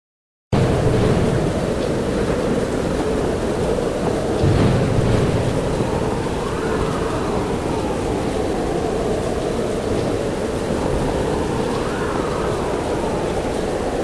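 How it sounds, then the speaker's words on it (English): A rainstorm with thunder: a steady, loud wash of heavy rain holds throughout with faint low rumbles underneath, after a brief silent moment at the start. "The rainstorm woke up Sarah."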